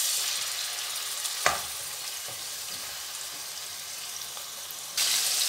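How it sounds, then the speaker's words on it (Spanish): Chicken browns in a large frying pan for paella with a constant crackling sizzle, a few sharp stirring clacks and a louder burst of frying near the end. "Y lo primero que vamos a echar va a ser el pollo. Lo vamos a rehogar bien."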